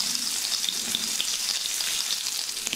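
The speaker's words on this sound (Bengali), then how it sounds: "ডিমগুলো দেওয়ার পর নেড়ে উভয় দিক দিয়ে সমানভাবে ভেজে নিচ্ছি।" Eggs frying in hot mustard oil in a wok, a continuous loud sizzle and crackle with small popping spatters close up, no voices.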